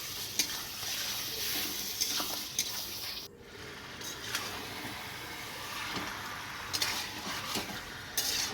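Chicken sizzles in oil with spice masala in a village kitchen pot, stirred with a spoon that scrapes and clinks sharply against the metal at irregular moments, close up with no talking.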